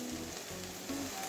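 Okra and potatoes fry in a pan for a Bengali vendi aloo bhaja, giving a steady, soft sizzle that hisses on without a break.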